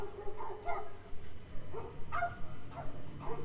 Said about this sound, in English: You can hear the dogs barking outside.